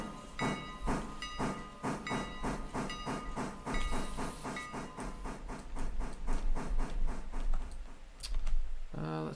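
A steam locomotive in the video game Railroader chuffs in a steady, rhythmic beat with hissing steam, then a short whistle blast near the end.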